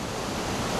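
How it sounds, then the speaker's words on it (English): Water pours over a canal overflow waterfall on the Leeds to Liverpool Canal, a steady, dense rushing roar that fills the short stretch with no voices. "Finally made it to the waterfall, the overflow."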